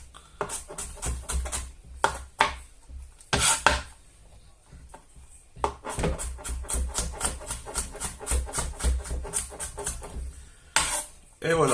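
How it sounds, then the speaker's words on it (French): A kitchen knife finely chops an onion on a board in rapid, close rhythmic bursts of crisp taps, broken by a pause and scraping sounds before the fast chopping resumes. "Et voilà, l'oignon est ciselé."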